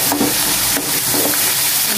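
A whole bulb's worth of chopped garlic hisses loudly in a hot pan as it is stirred, the close, constant sizzle punctuated by a few sharp scrapes of the spoon.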